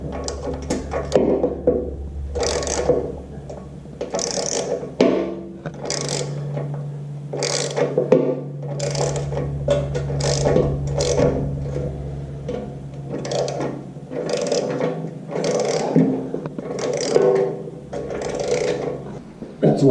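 Nuts being tightened onto bolts with washers using a ratcheting tool, giving repeated bursts of quick ratchet clicks with short pauses between them, close and fairly loud.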